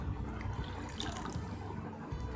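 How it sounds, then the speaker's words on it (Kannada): About a litre of water pours into a cooking pot, a soft, steady splashing and trickling that runs throughout at low volume. "ನಾನು 1 ಲೀಟ್ರು ನೀರು ತೊಗೊಳ್ತೀನಿ ಒಂದು ಪಾತ್ರೆನಲ್ಲಿ"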